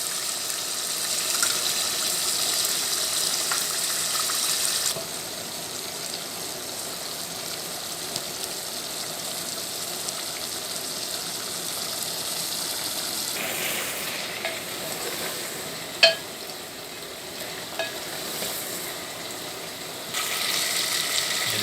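Chicken karahi sizzling and frying hard in oil in a pan after yogurt goes in, with stirring scrapes and occasional sharp clinks of a spoon on the metal, steady and close throughout without talk.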